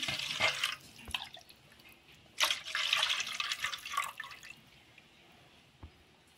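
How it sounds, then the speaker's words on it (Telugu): Tamarind juice is poured into a pan for a mango fish curry, giving a splashy liquid trickle in two bursts with faint drips between, fairly close and with no talk over it. "దీనిలో ముందు మనం చింతపండు రసాన్ని అయితే వేసుకుంటాను"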